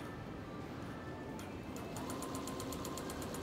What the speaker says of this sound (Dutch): Nu heb ik gewoon het voetpedaaltje eraan. Ik begin.